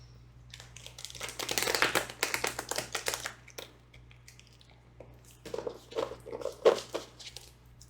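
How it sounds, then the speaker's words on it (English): Tarot cards riffle and slap together in two bursts of quick, close crackling taps, with a brief pause between, over a low steady hum. "I'm just shuffling my own deck right now."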